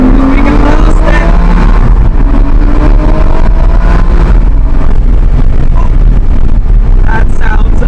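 A Bentley GT3 engine revs and accelerates hard while cruising, a loud continuous roar with rising engine tones, heavy wind rush and a voice talking over it throughout.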